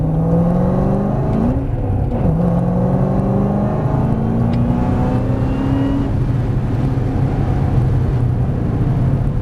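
A Ford Mustang Shelby drifting on a track, its engine roaring loud and close, with a revving climb, a brief dip as it shifts into second gear, then sustained high-revving power.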